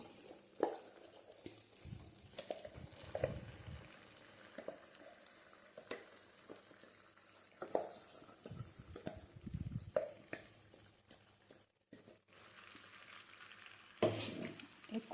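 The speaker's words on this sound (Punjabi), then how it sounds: "ਖਸਖਸ ਵਾਲਾ ਪੇਸਟ ਪਾ ਕੇ ਘਿਓ ਵਿੱਚ ਆਪਾਂ ਇਹਨੂੰ ਚੰਗੀ ਤਰ੍ਹਾਂ ਭੁੰਨਾਂਗੇ" Soaked poppy seed paste roasts in ghee in a pan for panjiri, heard as quiet, intermittent bursts of stirring and scraping with a soft sizzle, separated by near-silent gaps.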